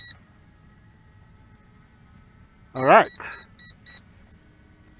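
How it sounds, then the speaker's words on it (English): The remote control of a VISUO ZEN K1 foldable GPS drone beeps during a low-voltage return to home: a few short, high, evenly spaced beeps, with a brief burst of nearby talk between them. "the remote control is sending out a beep as well"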